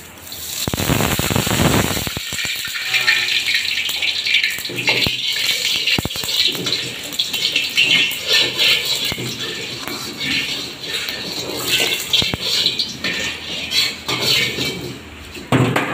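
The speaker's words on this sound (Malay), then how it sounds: "Okey, sekarang kita bilas pakai minyak" A rusty wok being rinsed with cooking oil, with a continuous splashing, sizzling hiss and sharp metallic rattles and clanks of the pan, close and steady throughout, as someone speaks at times.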